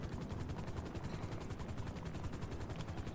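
A helicopter in the video game Getaway 2 gives a steady, rapid rotor chop, evenly pulsing and fairly faint throughout, with no talking over it.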